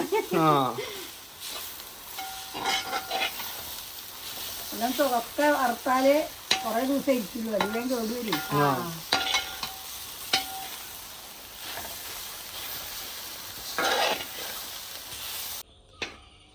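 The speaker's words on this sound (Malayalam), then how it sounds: "ഞാൻ ചോക്ക വറുക്കുന്നത് എന്താ അറിയോ" Food fries in a pan with a steady, close sizzle, broken by stirring scrapes and clatters, while a person talks over it at intervals.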